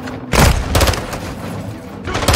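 Grenade explosions in the video game Call of Duty Modern Warfare 2, with loud booming blasts followed by a rumbling roll and another heavy burst near the end.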